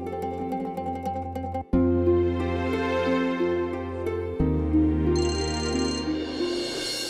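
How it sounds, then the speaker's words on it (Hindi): A phone rings in a Hindi TV drama scene, a steady repeating ringtone melody sounding loud and close with no talk over it. "ये लो, अब आया रंजीत भाई का फोन।"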